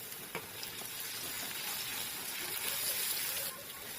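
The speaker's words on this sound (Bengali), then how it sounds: "এখন দিয়ে দেবো বেটে রাখা রসুন।" Garlic paste sizzling in hot oil with lightly browned onions for dhaba-style tarka dal, a steady loud broadband frying hiss that swells slightly midway, with one brief clink early on and no talking.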